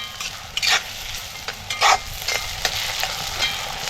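Finely chopped onion and tomato soften in a hot pan, with a continuous sizzle broken by several close scraping, clattering strokes of a spoon stirring the mixture.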